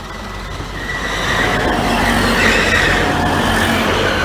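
Passenger train idling as it stops just before Newark Northgate station, a steady rumbling engine drone with a faint high whine, rising slightly in loudness and continuing without speech.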